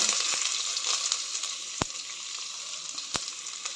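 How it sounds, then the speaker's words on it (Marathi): Finely chopped onion frying in hot oil with mustard seeds and cumin for an ivy gourd sabzi; a steady close sizzle runs throughout, broken by a few sharp pops. "मोहरी तरतरल्यावर जिरे घालायचं आहे त्यानंतर जिरे घालते नंतर बारीक चिरलेला कांदा"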